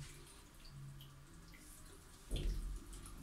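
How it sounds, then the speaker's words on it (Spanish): Water begins running into a newly installed toilet's tank, a soft steady trickle that swells into a louder gush near the end, close by and with no talk. "Aquí podemos ver que ya el depósito del agua está empezando a llenarse."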